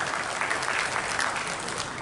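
An audience at a formal official gathering bursts into a short, full round of hand clapping, steady and moderately loud throughout with no voices on top.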